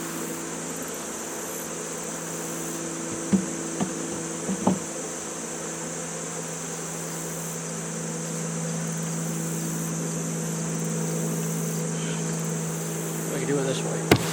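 Honey bees hum in an open beehive during a hive inspection, a steady close drone that runs throughout, broken by a few brief knocks and clicks from the frames.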